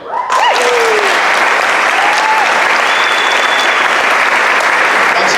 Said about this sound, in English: let's give a round of applause after each section